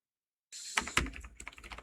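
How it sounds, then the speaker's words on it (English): After half a second of silence, a burst of quick, close clicks starts as someone types on a computer keyboard at an uneven pace. Nobody speaks. "So here we are going to type"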